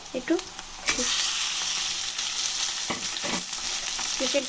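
Chicken pieces fry in hot oil with onions in a pan, producing a loud, continuous crackling sizzle broken by scraping stirs and clanks.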